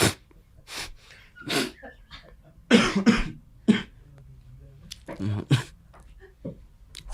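A person coughs several times in irregular bursts, close and fairly loud, with breaths and short snorts between them and occasional brief voice sounds.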